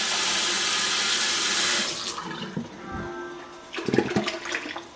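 Tap water pours loudly into an emptied tomato sauce can for a couple of seconds, then stops, followed by lighter sloshing and clinks of the can being handled.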